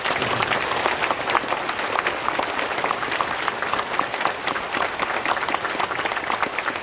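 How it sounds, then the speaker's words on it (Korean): Church congregation at a Korean retreat service applauding together, a steady, dense wash of many hands clapping close by throughout, with a faint murmur of voices underneath. "하나님께 영광의 박수 보내주시기 바랍니다"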